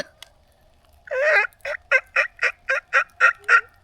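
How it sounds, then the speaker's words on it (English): A wild turkey gobbles loudly nearby, a rapid burst followed by a steady series of about eight short, evenly spaced gobbling calls. "We also heard some turkey."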